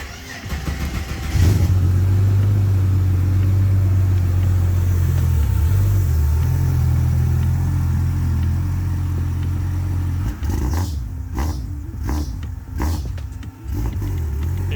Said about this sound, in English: Let's go out to some Barra engine noises,